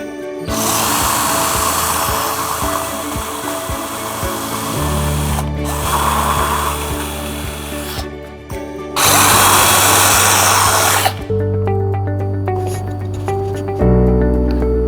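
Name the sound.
drilling holes in a double-layered PCB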